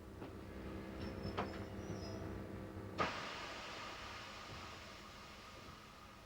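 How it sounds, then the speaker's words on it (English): A diesel-electric train pulls into East Grinstead Station on the Bluebell line, with a low steady rumble and a few faint squeals, then a sudden loud clunk followed by continued hiss and rolling noise. "One of the last diesel-electric trains arrives at a cheerfully decorated platform."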